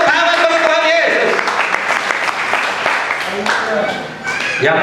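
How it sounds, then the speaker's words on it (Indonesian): A church congregation breaks into loud, sustained applause with scattered claps and voices, and a preacher keeps talking over it throughout. "Mari kita berikan tepuk tangan bagi Tuhan Yesus."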